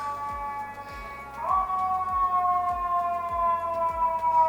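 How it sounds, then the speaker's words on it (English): A wailing siren slowly falling in pitch, fairly loud and sustained, with a repeating low thump pulsing underneath. "And of course there's sirens."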